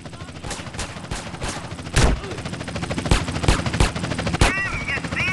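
Repeated gunfire in GTA San Andreas during a small-town bank mission: sharp, loud shots cracking at irregular intervals over a steady background of game noise and shouting voices.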